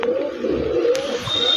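A pigeon coos softly up close in a brief low murmur, during rain, with a faint high whistle and a light tap near the end.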